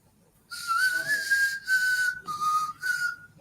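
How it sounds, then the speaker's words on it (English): Someone whistles a clear, sustained melody in short phrases with brief pauses, close and fairly loud, at a lodge during a live stream, over a faint background murmur. "Whistling's not for everybody."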